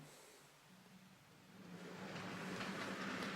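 A Piko ET41 model electric locomotive runs along a model railway track, a steady low rumble rising in level partway through as it draws nearer, with no talk.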